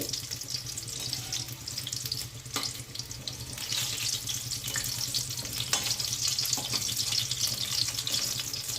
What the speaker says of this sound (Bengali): আমার সিঙ্গারা দুটো সাইডই ভালোভাবে ভাজা হয়ে গেছে।